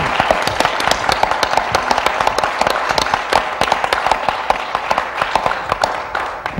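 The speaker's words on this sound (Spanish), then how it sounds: "Un aplauso para el Señor Jesucristo." A church congregation claps steadily and continuously, a dense wash of many hands applauding together with no voices standing out.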